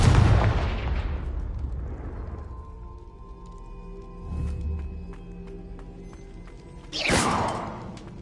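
Fiery Confringo spell blasts in the video game Hogwarts Legacy: a loud booming burst at the start fades into a low rumble, followed by a softer thud midway and another sharp explosive burst near the end.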